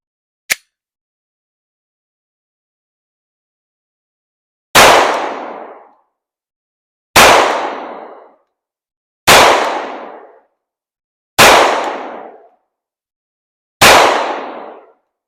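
A Glock 19 Gen 5 pistol fires five loud, separate rounds at a shooting range, each a sharp crack with a short ringing decay, spaced about two seconds apart after a brief click and a few seconds of silence.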